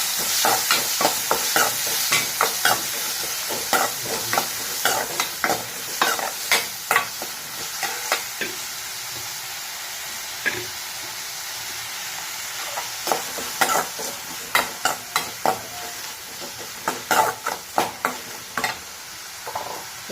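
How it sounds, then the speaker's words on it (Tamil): Onion, tomato, green chili and curry leaves sauté in a pan with a steady sizzle, punctuated by frequent sharp scraping clicks of a spatula stirring in quick irregular bursts, close and alone without talk. "நல்லா வதக்கி விடுங்க."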